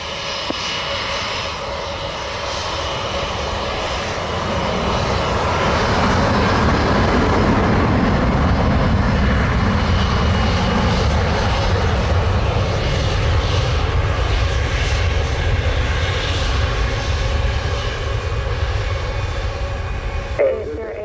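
Airbus A330 jet airliner at Montego Bay airport, Jamaica, a loud sustained engine roar that swells from about five seconds and holds steady to the end, with broadband rumble throughout.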